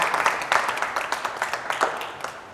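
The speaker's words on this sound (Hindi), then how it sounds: "तो सबसे पहले तो हम तालियों से, ठीक है, डॉक्टर साहब का स्वागत करते हैं" An audience claps to welcome a guest physicist at a parenting and education talk, a brief round of applause with distinct individual claps standing out, fading toward the end.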